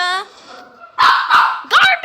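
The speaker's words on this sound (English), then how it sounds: "Should we just film the video while the dogs are shouting" Several dogs bark and yip in a close, loud indoor cluster, with a higher whining tone at the start, then a pause before three sharp bursts of barking in quick succession.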